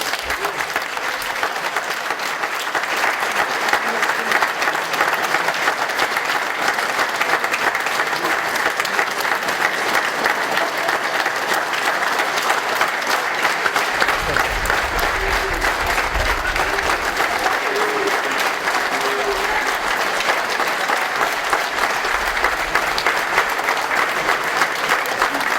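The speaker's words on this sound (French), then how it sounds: "je vous demande de les applaudir très très fort" A crowd at a fiftieth-anniversary ceremony for the Sausset-les-Pins fire brigade applauds veteran firefighters, with loud, dense, sustained clapping that carries on evenly for a long time with no one speaking.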